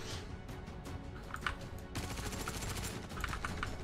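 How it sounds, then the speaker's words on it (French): Automatic gunfire from Star Citizen first-person combat against pirates, a dense stream of rapid shots running for several seconds, loud and close, intensifying midway with sharp crackling bursts. "ça tire, ça tire, ça tire de partout"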